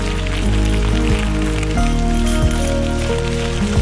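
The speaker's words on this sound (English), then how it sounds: "it's a rainy day today" Rain falls steadily outdoors on a bikepacking trip on North Vancouver Island, a dense, continuous hiss mixed with some low droning tones and no voices.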